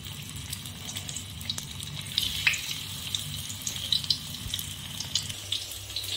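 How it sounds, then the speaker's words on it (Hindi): Stuffed bell peppers frying in hot cooking oil in a pan, a continuous close sizzle and crackle with scattered small pops and spatters, no talking. "तीन शिमला मिर्च को मैंने फ्राई पैन में फ्राई कर रही हूँ"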